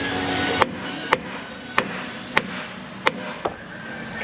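Six harder hammer blows strike a metal part during a questionable repair, spaced roughly half a second to a second apart, each a crisp close crack over steady low background noise.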